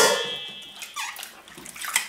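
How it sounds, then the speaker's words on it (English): Cauliflower florets swished around in a pot of water, producing close, sloshing splashes and faint squeaks after a brief running-water rush at the start. "Just swish them around in a pot of water."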